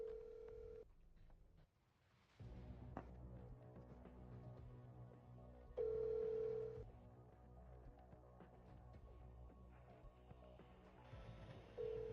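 Phone call tones after a voicemail greeting: a steady electronic tone sounds, stops, and returns twice more at spaced intervals, faint and alone over a low room hum.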